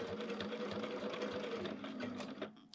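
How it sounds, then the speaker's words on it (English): Sewing machine stitching the mitered corner of a T-shirt quilt, heard as a continuous fast mechanical whir and rattle up close that stops abruptly at the end. "So then I can just stitch that."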